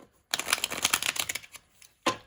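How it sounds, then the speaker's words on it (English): A deck of tarot cards is riffle-shuffled close by, giving a quick rattling flutter of card edges for over a second, then one short slap as the deck is squared. "I have been shuffling off camera, but I will give the deck a few more shuffles."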